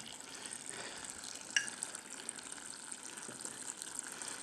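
Filtered water runs steadily into a container, a soft continuous hiss and trickle with a small splash partway through, fairly quiet and with no voices.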